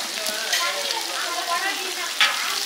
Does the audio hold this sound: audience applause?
no